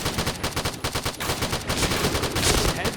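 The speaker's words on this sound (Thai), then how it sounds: "ตัวนี้ยิงง่าย ๆฮะมีเทคนิคในการยิงก็คือ กดรัวๆนะฮะกระสุนมันก็จะนิ่ง" Sustained automatic fire from an Ultimax 100-round machine gun in the shooter game Point Blank: a loud, close, rapid and regular rattle of shots, with no gaps across the whole stretch.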